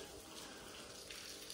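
Water rushes and gurgles steadily as it drains away, a broad, close hiss with no voices.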